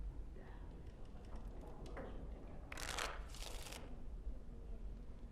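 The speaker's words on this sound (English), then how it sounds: "Before we start, the cards must be shuffled." Cards are shuffled in the video game Dragon Age Origins, with two quick bursts of riffling cards riding over a low ambient hum and some soft background noise.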